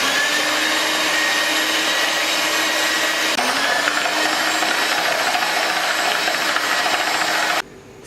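An electric mixer runs steadily and loudly close by, mixing butter into fondant ingredients with a constant whirring drone that shifts slightly in pitch midway before cutting off abruptly near the end.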